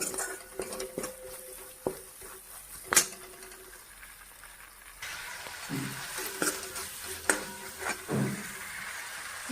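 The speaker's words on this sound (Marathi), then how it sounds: "छान परतून घेते ह्याला म्हणजे काय लसण आल्याचा वास असून कच्चापणा निघून जातो" Garlic and ginger are sautéed in a pan, with a quiet sizzle under repeated clinks and scrapes of a spoon against metal, growing a bit busier in the second half.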